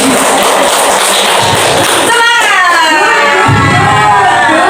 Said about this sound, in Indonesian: Tepuk tangan untuk Susan.